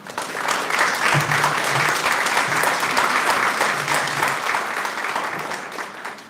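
A graduation ceremony audience applauds steadily in a hall, a dense wash of clapping that holds at full strength for about six seconds before easing slightly at the end.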